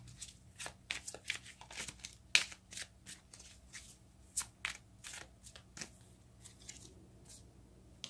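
Tarot cards shuffled by hand during an angel-message reading, a series of quick crisp riffling and flicking bursts at an irregular rhythm, close and fairly quiet, with no talking.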